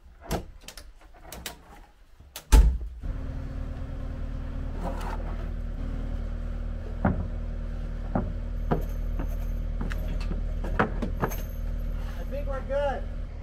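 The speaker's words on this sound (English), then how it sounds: "can the skid steer lift me high enough to actually put the roof purlins on?" A skid steer's diesel engine idles and runs in a steady low drone while lifting roof purlins for a container shop. It starts with a loud clank, then carries scattered knocks and bangs, with people talking over it.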